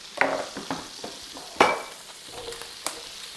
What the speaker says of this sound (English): And then in go the sliced mushrooms